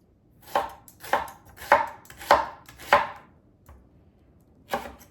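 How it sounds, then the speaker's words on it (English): Knife slicing a whole onion on a cutting board, with about six crisp, evenly spaced chops close up, then a short pause and one final cut. "We have 1 whole onion, which I'm just gonna slice up really fast."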